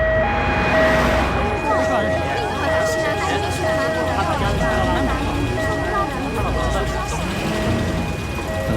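An ambulance siren wails continuously in a tense roadside emergency after a car crash, its rising and falling tones steady and fairly close while distressed voices talk over it.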